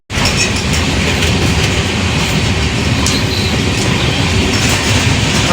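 A passenger train en route toward Dharamsala, heard from the open carriage doorway: a loud, continuous roar of wheels on rails with steady rhythmic clatter and rushing wind throughout.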